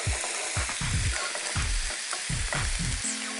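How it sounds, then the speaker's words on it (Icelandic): Pineapple and papaya pieces sizzle in a frying pan as a spatula stirs them in quick scraping strokes under a constant hiss of frying. "Svo eru ananasinn og papayahan byrjaðar að steikjast aðeins."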